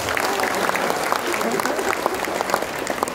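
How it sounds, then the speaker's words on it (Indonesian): Audience applause at a national literacy event in Singkawang, a dense steady patter of many hands clapping throughout, fairly loud and close, with scattered crowd noise mixed in. "Tepuk tangan yang ikhlas."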